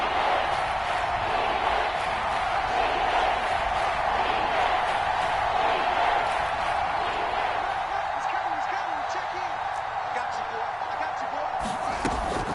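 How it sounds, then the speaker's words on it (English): A stadium crowd in a Madden football video game roars steadily as a big third down approaches, a dense continuous wall of cheering and noise at even loudness with a commentary voice under it. "the crowd getting into it as we come up on a big 3rd down"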